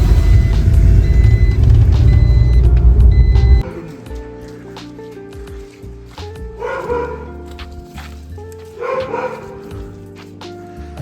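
A dog barks repeatedly, mid-distance, alongside a truck's reversing beeps and an engine rumble in a parking area; the heavy engine drone drops away after a few seconds, leaving several bursts of barking over quieter traffic.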